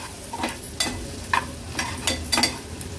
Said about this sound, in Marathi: हळद आणि मसाला तेलामध्ये छान परतून घ्यायचे